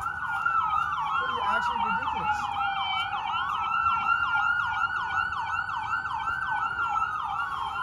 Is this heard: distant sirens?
yes